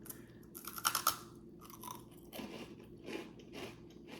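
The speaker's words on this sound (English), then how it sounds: "I'll just take a bite." Someone bites into a crunchy Trader Joe's snack and chews it close to the mic, giving a few sharp crisp crunches at first and then softer, rhythmic wet chewing, quiet and intimate with no speech.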